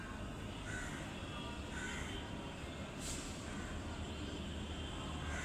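Crows cawing several times at a distance over a constant, fairly loud broadband background hum, harsh calls spaced about a second apart.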